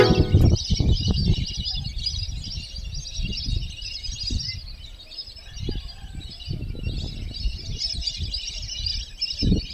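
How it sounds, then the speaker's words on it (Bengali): Many birds chirp and twitter in a constant bright chorus along a Sundarbans river bend, while irregular low thumps and rumbles nearby break in and out underneath. "একদম দেখো কত পাখি"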